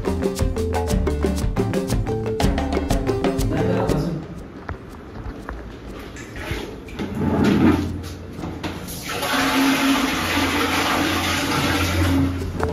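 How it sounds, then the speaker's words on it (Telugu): Water pours and splashes into a bucket, a rushing noise that builds and holds steady after some knocking and clattering, with voices talking nearby. "మనమైతే నీళ్ళు నింపుతున్నాము"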